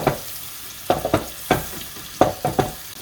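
Flour is stirred into melted butter in a pan for courgette, tuna and mozzarella lasagne, giving a soft, steady sizzle broken by repeated scraping strokes of the spoon, close and clear with no talking.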